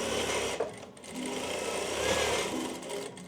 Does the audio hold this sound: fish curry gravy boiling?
no